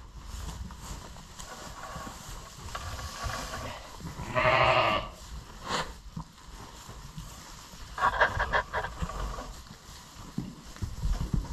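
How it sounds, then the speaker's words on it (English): Farm sheep bleat in two loud, distinct calls a few seconds apart, with scuffling hoof steps and farmyard noise in between during barn chores. "So these sheep are my mom's sheep."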